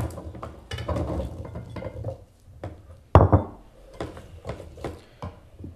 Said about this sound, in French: Et on va mettre notre potimarron.